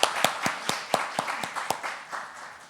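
Church congregation claps in steady unison for the worship accompanist, around ten evenly spaced sharp claps at moderate volume in a reverberant sanctuary.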